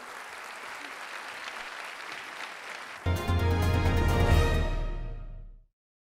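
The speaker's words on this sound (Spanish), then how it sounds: "me gustaría pedir un fuerte aplauso en homenaje a nuestros y nuestras profesionales" At a university graduation ceremony, the audience applauds the new professionals with steady clapping for about three seconds, then music abruptly takes over and plays loudly before cutting off.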